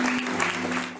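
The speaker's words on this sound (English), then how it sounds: "Applause for Candace Clark." Applause for Candace Clark, a dense wash of clapping filling the whole second at steady loudness, with a low steady hum running beneath it.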